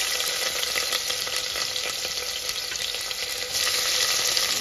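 Onion frying in a pan while being stirred, a dense continuous sizzle with scraping stir strokes, close and steady, no talking.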